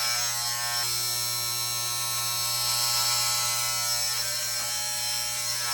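A Wahl Elite Pro electric hair clipper buzzes steadily and close up as it cuts hair, a constant motor hum running without pause.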